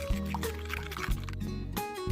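Melted butter pours over Chex party mix seasoned with celery salt, garlic powder and onion powder, a continuous close liquid stream with a few brief breaks, no talking.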